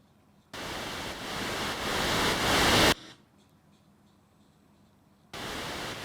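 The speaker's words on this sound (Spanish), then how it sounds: "Originalmente, cualquier sintetizador en general tiene ruido blanco" A synthesizer's white noise burst, used as a riser for a drop, swells steadily louder for about two and a half seconds and then cuts off abruptly. After a quiet gap, the broadband hiss returns sharply near the end.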